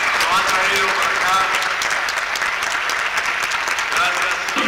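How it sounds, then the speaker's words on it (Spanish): An audience at a live show gives loud, sustained applause, dense clapping filling the whole stretch, with a voice speaking over it. "Yo me di un aplauso también para Javier"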